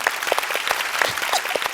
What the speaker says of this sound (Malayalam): ചേച്ചിക്ക് ഒരു വലിയ കൈയടി ഒന്നുകൂടെ കൊടുക്കാം നമുക്ക്